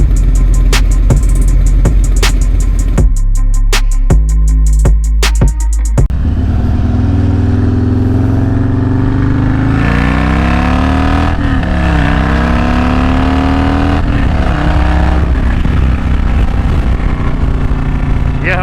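Harley-Davidson touring motorcycle riding on the road: a few sharp engine blips at first, then a loud, close, continuous low engine drone that rises and falls through gear changes.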